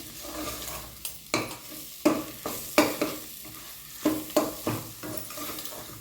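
Masala powder is stirred into a pan of mutton curry base, with repeated scraping strokes of a spoon against the pan over a low sizzle, close and irregular.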